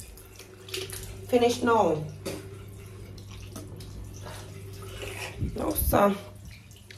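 A bathroom tap runs while a child brushes teeth, a steady thin stream of water flowing beneath short spoken exchanges between an adult and the child, with louder splashing and rinsing bursts near the start and end.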